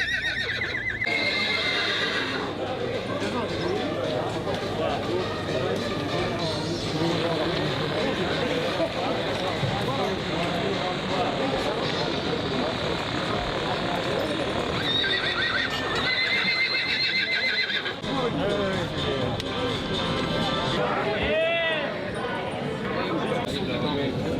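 Horses neigh and whinny repeatedly over a steady clip-clop of hooves, with French voices talking nearby throughout.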